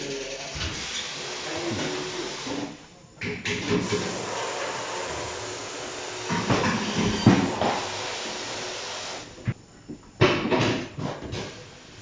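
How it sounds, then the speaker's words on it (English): A wheel balancing machine spins a freshly fitted bike tyre with a loud, steady whirring rumble and hiss, interrupted by short stops and knocks toward the end. "we're off to the balancing wheel now"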